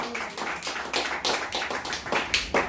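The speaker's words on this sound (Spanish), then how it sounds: "Más fuerte los aplausos." Church congregation clapping harder after being urged on, a dense run of hand claps with rhythmic pulses, fairly close and steady throughout, with no voices over it.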